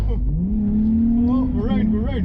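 Lexus IS200 engine held against the rev limiter during a clutch-kick drift, a steady high droning note with rising and falling pitch sweeps, while excited voices shout over it.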